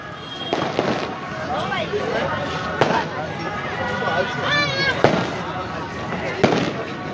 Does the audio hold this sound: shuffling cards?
no